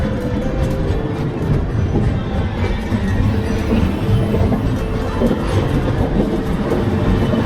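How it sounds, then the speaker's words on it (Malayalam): Onboard the Steel Express as it nears Santragachi station, a loud, steady rail rumble with rhythmic wheel clatter fills the carriage, continuous throughout with no pauses. "സാന്ത്രഗച്ചി റെയിൽവേ സ്റ്റേഷനിലേക്കാണ് നമ്മുടെ ട്രെയിൻ അടുത്തുകൊണ്ടിരിക്കുന്നത്"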